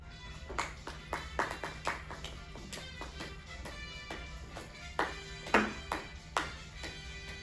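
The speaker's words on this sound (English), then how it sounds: "Yes, I can like clap." Several sharp hand claps sound in an irregular run, some close together, standing out against a steady low background hum with no talking.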